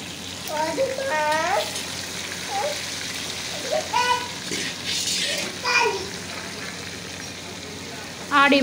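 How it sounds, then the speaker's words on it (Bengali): Pieces of rohu and pangas fish frying in oil, a soft continuous sizzle running under intermittent speech and brief voices, fairly close and moderate in level. "আর এইভাবে সমস্ত মাছগুলোকে আমি ভেজে নিচ্ছি।"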